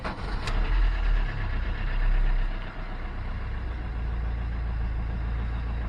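A car engine turns over and settles into a steady idle, with a deep, constant low rumble that holds evenly to the end and no voices.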